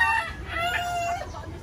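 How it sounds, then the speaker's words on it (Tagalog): Close rooster crowing with bright, wavering tones at a chicken farm, followed by clucking chickens against a low background hum. "Puro manok pala ito."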